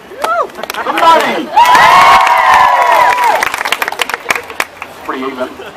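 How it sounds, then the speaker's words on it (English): A street comedy show crowd at Southbank in Brisbane claps and cheers loudly, a swelling burst of applause and shouts rising to a sustained roar for over a second before breaking into scattered claps and voices. "just clap, which of a prize you think you deserve"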